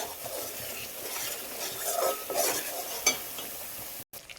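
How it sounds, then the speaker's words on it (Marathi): Masala paste frying in oil in a pan, a soft steady sizzle with scraping stirs and one sharper clink of the spoon near the end, close and quiet with no talking. "आता पेस्टला चांगल्यापैकी 15 मिनिटं फ्राय करून घ्यायचं।"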